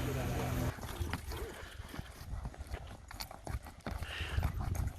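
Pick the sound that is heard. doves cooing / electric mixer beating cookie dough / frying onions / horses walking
horses walking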